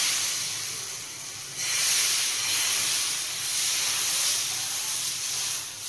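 Patisapta batter sizzles on a hot pan brushed with oil, a steady close hiss that swells and eases in waves, with no talk.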